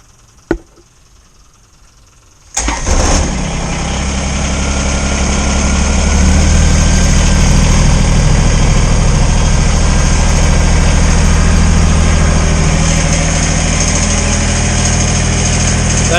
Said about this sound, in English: That sounds pretty good for a cold start, doesn't it? Listen to that engine purr.